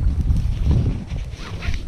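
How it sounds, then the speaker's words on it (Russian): Strong, gusty wind buffets the microphone on a lakeshore during shore fishing, a continuous low roar that swells and eases in irregular pulses with no voices over it. "ветер ужасный"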